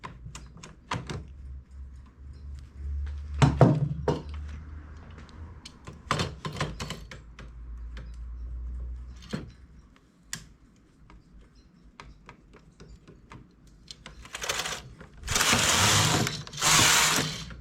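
A knitting machine works rows with a series of mechanical clacks and rattling carriage passes, scattered clicks separated by pauses, then louder rushing sweeps near the end, all close and without talk.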